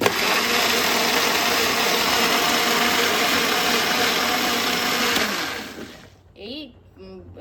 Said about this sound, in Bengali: আর এই 11 3 জার পার্সোনাল ব্লেন্ডারটাতে আমি টমেটো আর পেঁয়াজ